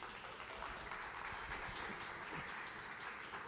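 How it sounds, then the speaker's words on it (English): Audience applause at a real estate tech talk, a steady wash of clapping from a crowd that holds at an even, moderate level throughout without any voices over it. "Give this guy a round of applause, please."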